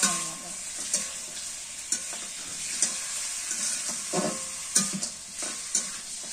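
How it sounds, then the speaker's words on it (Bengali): Goat meat sizzles in hot oil in a pan, with a spatula scraping and stirring at intervals, the clinks and scrapes recurring roughly every second over a steady crackling fry; no one speaks. "খাসির মাংসটা আমার ভাজা হয়ে গেছে, নামায় নিয়ে এখন।"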